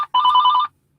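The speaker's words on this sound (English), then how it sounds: "Sorry, my phone's ringing." A phone ringing indoors, a single electronic warbling ring burst lasting about half a second, clear and fairly close, with silence before and after.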